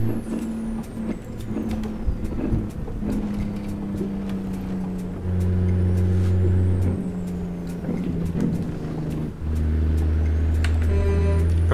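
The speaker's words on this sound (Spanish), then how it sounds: "Es que ese motor suena espectacular." A heavy Kenworth T800 truck engine in American Truck Simulator rumbles steadily with deep droning tones and periodic hiss bursts like air brakes, loud and close, shifting gears midway.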